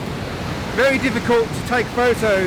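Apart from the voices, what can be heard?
waterfall in full spate after heavy rain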